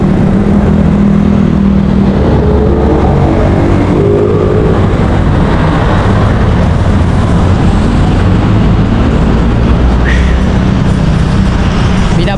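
A loud, unbroken roar of traffic moving along EDSA in Manila, with car and motorcycle engines rumbling close by in a dense, steady wash.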